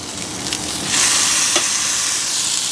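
Turkey breast sizzles on a Weber Q 2400 electric grill, a close, steady frying hiss that swells louder partway through and holds, with no voices.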